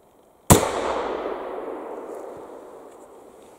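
A single sharp gunshot from an 1860s Ballard dual ignition rifle cracks out loud and close, then rings and echoes as a long decaying tail, with no talk.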